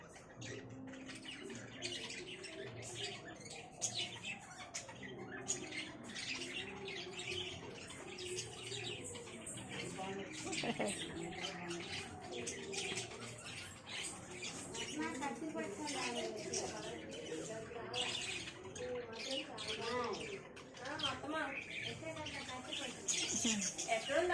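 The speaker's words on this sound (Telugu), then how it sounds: "పక్షి ఎంత బాగున్నాయి చూడండి" Small birds chirp and tweet repeatedly in a rooftop terrace garden, their calls faint and continuous beneath voices talking nearby.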